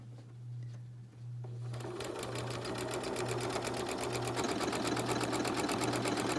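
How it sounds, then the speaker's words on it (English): Janome MC9850 sewing machine running an automatic buttonhole with the R foot: a soft hum, then a steady rapid needle clatter starting after about two seconds and continuing evenly to the end, close and alone. "it will automatically run the buttonhole for you"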